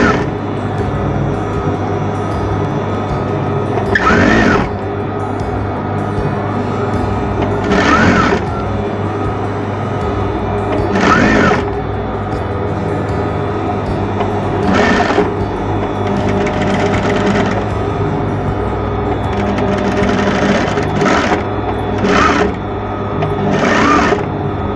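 A sewing machine stitches smooth apron fabric in a long steady run, its motor whirring continuously with several louder bursts recurring every few seconds.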